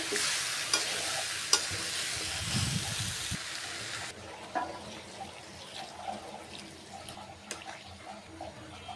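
Tilapia fish curry with okra, tomato and potato being sautéed in a pan, a soft close sizzle with scraping stirs and a short louder rumble early on, no talk.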